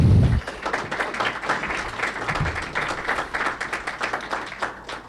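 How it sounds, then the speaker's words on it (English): Audience applause after a campus debate on alcohol policy, a steady dense clapping that swells briefly and sustains at moderate loudness for several seconds, with no talk over it. "A round of applause for our debaters, please."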